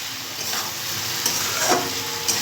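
Ingredients for a sweet-sour-spicy pickle fry in a pan with a steady close sizzle and occasional stirring scrapes, no talking over it.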